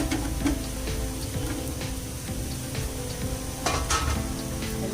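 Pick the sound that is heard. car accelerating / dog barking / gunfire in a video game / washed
washed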